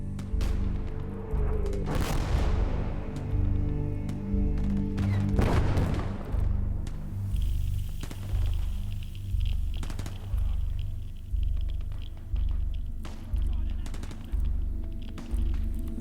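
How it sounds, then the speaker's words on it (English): Artillery barrage in Gates of Hell: Ostfront, a World War II strategy game set on the Finnish front: repeated heavy booms and thuds under a constant low rumble, with sharper blasts near the start and distant cracks of gunfire later. "Just dropping artillery on them."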